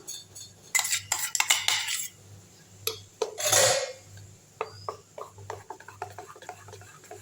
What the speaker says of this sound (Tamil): இப்போ இதை வந்து நல்லா கலக்கி விட்டுடலாம்